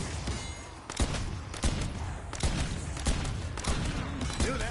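Rapid bursts of heavy hand cannon gunfire in a video game, several loud thumping shots in quick succession over busy background noise.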